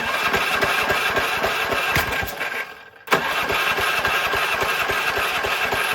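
A gas lawn mower engine running on diesel cranks on its electric starter in fast, rhythmic pulses, pauses briefly, then cranks again loudly without catching.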